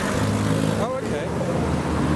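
Mazda RX-8 passing at a crowded car meet, a loud, steady engine roar with a brief dip partway, amid crowd noise and voices.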